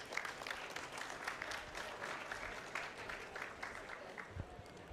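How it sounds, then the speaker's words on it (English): Sustained audience applause at a conference session honoring the Director General of the International Energy Agency, a continuous even roll of many hands clapping, fairly distant in a large hall. "Please, more applause to the Director General of International Energy Agency"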